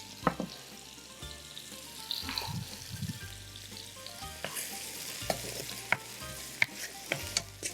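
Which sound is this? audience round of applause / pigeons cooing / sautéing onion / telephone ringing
sautéing onion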